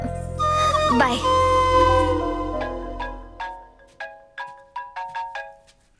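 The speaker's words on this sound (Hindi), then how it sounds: "फोन बज रहा है।" A phone ringtone plays loud and close: a sustained bright melodic chime that tails off, followed by a series of short repeating electronic tones, with no talk over it.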